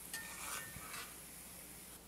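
Onions and carrots sautéing in a pan, a soft steady sizzle with a few brief stirring scrapes near the start, faint and close, with no talking.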